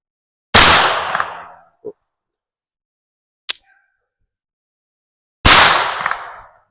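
Colt Junior .25 ACP pocket pistol firing two loud, sharp shots several seconds apart, with a faint metallic click and a brief tap in the gap between them.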